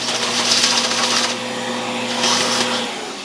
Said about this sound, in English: Usually I can get most of it with the vacuum.